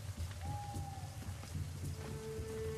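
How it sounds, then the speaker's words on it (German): Steady rain pours down in the video game Assassin's Creed Rogue, heavy and even, with a faint low rumble and a thin whistling tone drifting through. "Oh, es setzt Regen ein."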